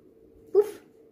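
A dog lets out a single short, sharp yelp or whimper as a cat jumps on it, close by, with quiet room tone before and after.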